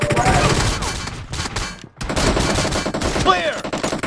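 M24 rifle shots in BGMI team deathmatch, sharp loud gunfire bursts throughout with brief pauses, mixed with in-game voice callouts.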